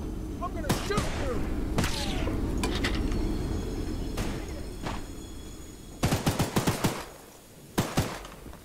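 Gunfire in a video game, with a rumbling backdrop and scattered impacts that give way to a quick cluster of sharp, loud shots near the end.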